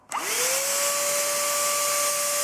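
A battery-powered Chinese handheld vacuum cleaner switches on with a click and spins up into a loud, steady whine with a rising then constant tone, held close and continuous.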